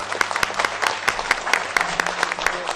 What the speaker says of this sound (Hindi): तो मैं आप लोग सब की भरपूर तालियों में एडी बलोच साहब को दावत दूँ।